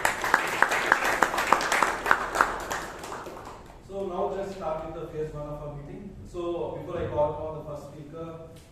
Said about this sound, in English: Let us give a big round of applause for all the